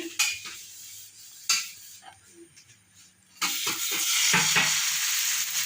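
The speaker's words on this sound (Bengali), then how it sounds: "পেঁয়াজটা কাঁচা দিলে অতটা টেস্ট হয় না জানেন, এই ভেজে দিলে বেশি ভালো লাগে। তেল দিয়ে নিয়েছি" Onions frying in oil in a home kitchen pan, first a few quiet clinks and scrapes of a spoon, then a loud, steady sizzle that swells and holds with more stirring over it.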